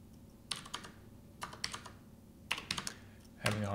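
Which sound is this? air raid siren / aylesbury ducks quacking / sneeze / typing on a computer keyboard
typing on a computer keyboard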